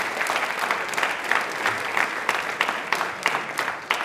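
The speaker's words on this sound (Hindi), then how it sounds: "देखिए एक बार तालियां हो जाए बच्चे के लिए" Sustained applause from a studio audience on a Rajasthani television quiz show, cheering a child contestant; dense, steady clapping with frequent sharper hand claps standing out, heard alone without talk.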